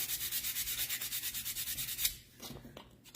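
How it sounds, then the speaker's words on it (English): Rhythmic back-and-forth sanding scrapes against painted wood for a distressed sign, quick and steady, close up, stopping abruptly near the end with a few light knocks. "of course this one I'm going to end up sanding a lot"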